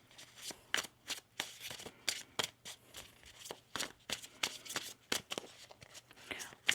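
Rapid, crisp riffling of tarot cards in quick bursts, close by, repeated many times in a steady rhythm with brief pauses between shuffles.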